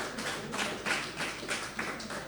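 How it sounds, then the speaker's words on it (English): Applause at a beekeeping course graduation ceremony for an absent graduate, a steady patter of hand claps from a small audience lasting a couple of seconds, moderately quiet with no speech. "let's clap for him as well"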